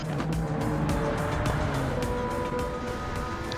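A Ferrari 458 Italia on a hot lap in Gran Turismo 7, its engine note droning steadily with a brief tyre squeal, faint and fairly distant throughout.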